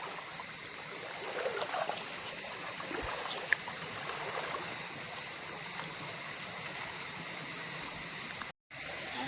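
A forest stream flows steadily through the night near a camp, with a constant soft trickling wash and a faint high insect drone throughout, no voices present.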